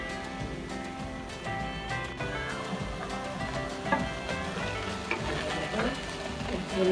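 Bay leaf, cinnamon, cardamom and ginger paste fry in hot oil for a red lentil daal, giving a steady close sizzle with stirring scrapes throughout.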